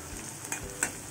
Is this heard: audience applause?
no